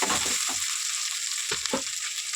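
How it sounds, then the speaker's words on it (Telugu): Ginger paste and a spoonful of lentils frying in a pan for an Andhra-style mutton liver curry, a steady close sizzle broken by a few dull knocks of stirring. "అల్లం పేస్ట్ వేగిపోయింది కదా, 1 స్పూన్ పప్పు వేస్తున్నానండి నేను."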